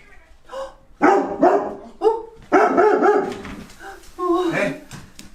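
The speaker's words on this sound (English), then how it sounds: "She's gonna bark at it." A dog barks several times close by in short loud bursts mixed with whiny yips, while people talk over it.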